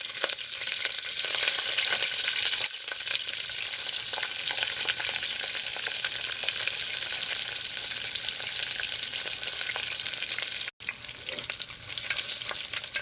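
Onions fry in a pan with curry leaves and mustard seeds, a loud, dense sizzle that runs steadily throughout and briefly cuts out once, with no voices.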